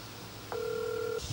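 A phone call rings out on the line as a single steady electronic tone, clean and moderately loud, lasting under a second before a faint rustle.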